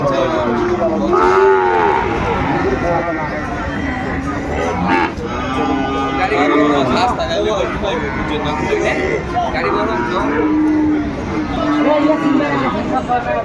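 A Sahiwal bull calf bellows repeatedly at close range at a cattle market, its lowing mixed with a background of people chattering and general crowd noise throughout.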